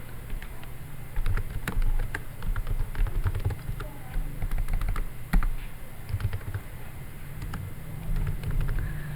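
Rapid clicking keystrokes of code being typed on a computer keyboard patter in uneven bursts, close and moderately loud, over a low background hum with a voice occasionally present.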